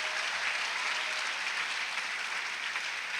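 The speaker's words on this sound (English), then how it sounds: "Give them a big round of applause." Steady applause from a crowd of students and families at an eighth-grade graduation ceremony in a school hall, continuous even clapping heard at a moderate distance and sustained without a break.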